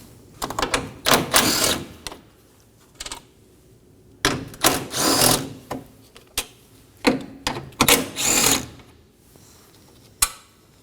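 A ratchet removing three 10mm bolts from the airbox tube of a 2020 Toyota Corolla, fast, loud, close clicking bursts separated by short pauses, with no talking.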